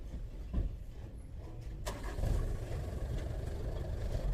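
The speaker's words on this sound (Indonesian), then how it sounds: "mohon maaf teman-teman jika suaranya bising karena saya itu membuat videonya ini di dalam mobil" Low, rumbling cabin noise inside a car, a steady engine and road drone with a brief sharp click partway through, with no one speaking.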